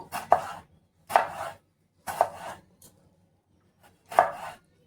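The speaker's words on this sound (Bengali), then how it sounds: "তো এবার এই টমেটোটা আমি একটু কেটে নেব।" A knife chops a tomato on a board in four sharp, evenly spaced strikes about a second apart, each a crisp close thud with a short tail, with quiet gaps between and no voices.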